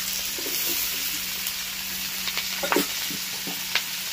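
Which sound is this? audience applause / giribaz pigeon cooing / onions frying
onions frying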